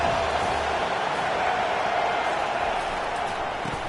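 College football stadium crowd roaring in a steady, loud, continuous wash of distant cheering and noise, with no clear individual voices.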